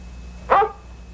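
A single short dog bark or yip from an old film soundtrack, fairly loud and alone against a quiet background hum.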